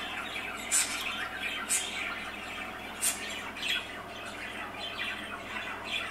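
A pet bird gives a series of sharp squawks, about five spaced bursts over a steady faint background hiss, fairly close and fairly quiet, with no voices.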